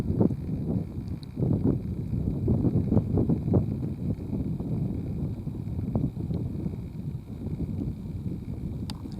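Wind buffeting a microphone on a ride along a back road under blue sky, a constant low rumbling roar with irregular gusty surges, close and fairly loud, with no talking.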